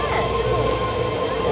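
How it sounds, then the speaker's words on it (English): Steady low rumble and whine of a San Francisco metro train pulling into the station, a continuous loud drone with a faint tonal hum, close by and unbroken. "There it is. There's our train."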